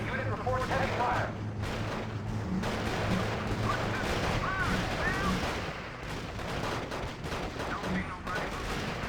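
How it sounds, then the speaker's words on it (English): Gunfire and artillery rumble continuously through a R.U.S.E. strategy game battle set in Italy, with dense bursts and booms layered under brief radio-style voice chatter. "Unit reports heavy fire."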